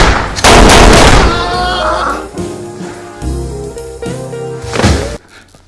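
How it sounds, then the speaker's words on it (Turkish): A loud burst of gunfire in a casino scene from a Turkish comedy film erupts suddenly and dominates briefly, then gives way to a tense tonal soundtrack with lingering rumble. "Hüseyin denilen adam Ekrem'i vurdu."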